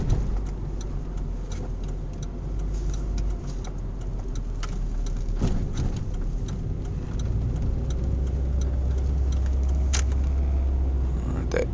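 A waste management truck rumbles past on a street in a tornado-damaged town, a steady low engine drone holding for the whole stretch with faint clicks and rattles on top and no talk.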